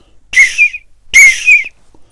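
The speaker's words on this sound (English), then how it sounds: "Thomas always whistles" Two bright, high steam engine whistle toots, each about half a second long with a brief dip in the middle, separated by a short pause, close and clear.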